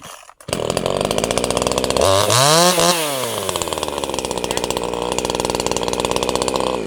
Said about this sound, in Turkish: Motoru çalıştı.